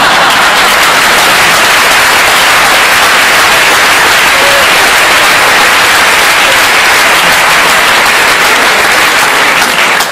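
Loud, sustained crowd applause fills a Catalan political rally hall in Tarragona, a dense and steady roar of clapping without a break.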